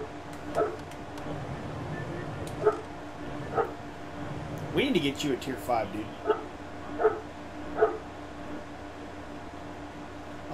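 A dog named Repo barks in the background of a World of Tanks game session, with a series of sharp, separate yips spaced a second or two apart, mid-distance and moderately loud, while someone talks over it.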